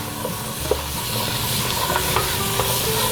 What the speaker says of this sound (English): I'm going to throw in the onions that I've chopped up